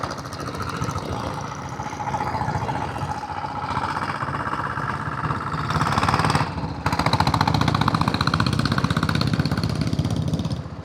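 A 1999 Royal Enfield Taurus diesel Bullet motorcycle engine runs steadily up close, a loud, rough, rapid knocking thump that rises slightly in intensity partway through.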